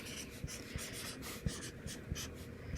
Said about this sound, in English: But what I write it on a whiteboard first